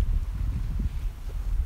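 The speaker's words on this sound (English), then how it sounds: "It's a little windy, but that's okay." Wind buffets a microphone on a beach, a low, steady rumble with gusty swells under calm water and no voices.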